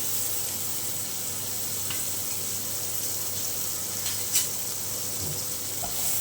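Onion, ginger, garlic, beetroot, red chillies and carrot sautéing in a pan, a steady close sizzling hiss with a few faint clinks of a utensil.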